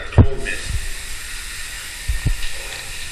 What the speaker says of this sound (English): I'm gonna try the cold mist.